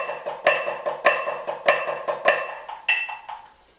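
A snare drum plays flam accents, each downbeat a louder doubled stroke followed by lighter taps in a steady triplet-like rhythm, close and clear with no talking.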